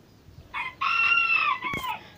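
A single rooster crows nearby, one loud, drawn-out cock-a-doodle-doo against quiet background noise.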